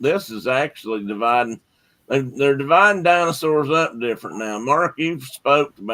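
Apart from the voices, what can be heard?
No everyday noises stand out.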